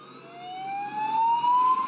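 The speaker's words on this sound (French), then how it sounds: "les ambulances continuent d'évacuer les blessés" An ambulance siren wails close by at night in Barcelona after the 2017 attack, a single rising tone sweeping upward and growing louder, with no talk over it.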